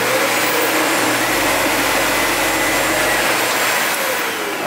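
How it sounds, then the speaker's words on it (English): A SEBO Felix upright vacuum cleaner runs steadily and loudly, a continuous broadband whir with a low motor hum that holds constant through the whole stretch, no voices over it. "So the first thing you're going to do, really when you get any vacuum, is of course plug it in, make sure it works."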